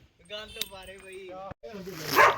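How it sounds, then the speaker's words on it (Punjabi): A mountain dog tied up outdoors on a cold mountain route barks repeatedly in a steady, harmonic, fairly close voice, with a burst of louder noise near the end. "ਅੱਛਾ ਬੰਨਿਆ ਹੋਇਆ ਤਾਂ ਹੀ ਭੌਂਕੀ ਜਾਂਦਾ"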